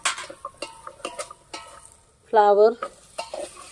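Potatoes and cauliflower fry in a pan over a wood-fired stove for Khandeshi masala khichdi with garlic chutney. A spoon clinks and stirs in short scraping strokes under soft sizzling, and a voice talks briefly.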